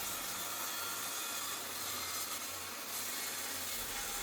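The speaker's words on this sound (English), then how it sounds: "Here I'm using a circular saw that's doing just the opposite, so I've put tape on top to try to minimize the tear out." A circular saw rips through a salvaged walnut tabletop taped on top against tear-out, the board unclamped: a continuous whirring, rasping cut, fairly even in level from start to finish, no talking.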